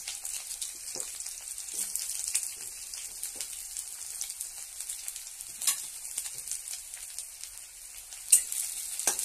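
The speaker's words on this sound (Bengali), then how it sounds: "তেল গরম হয়ে গেছে, এবার পেঁয়াজগুলো ছেড়ে দিচ্ছি, পেঁয়াজ, শুকনো লঙ্কা আর রসুন।" Onions, dried chillies and garlic frying in hot oil, a continuous close crackling sizzle with occasional sharper pops and spatters.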